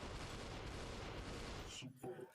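Rapid submachine gun fire in Superhot VR, a dense, continuous burst of loud shots that cuts off abruptly near the end, followed by a brief quieter thump.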